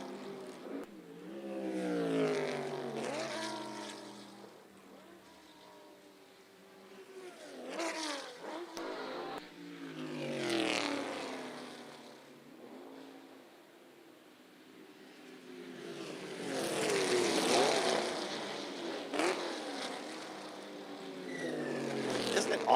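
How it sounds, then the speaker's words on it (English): Corvette and Mustang race car engines roar around the Lime Rock Park circuit, swelling and fading as cars pass and echoing through the surrounding hills, several waves of rising pitch at moderate distance. "Awesome to hear these engines in the Corvettes and the Mustangs and just echoing through the hills here at Lime Rock"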